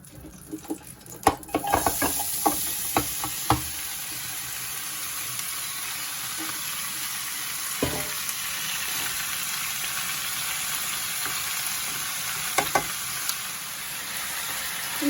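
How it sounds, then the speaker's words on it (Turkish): Vegetables with tomato being stirred and sautéed in a hot pot on the stove, a steady close sizzle with sharp clinks and scrapes of the spoon clustered early and again near the end. "sebzelerim bir kez daha güzelce karışarak kavruldular"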